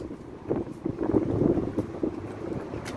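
Hot gusting wind in blazing sun buffets the microphone in soft, uneven bursts of low rumble, fairly faint and with no voices.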